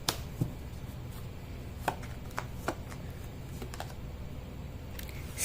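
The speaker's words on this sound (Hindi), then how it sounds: "कार्ड की शफलिंग।" Tarot cards are shuffled by hand, producing faint, sparse taps and soft clicks at irregular intervals over a quiet, hissy room background.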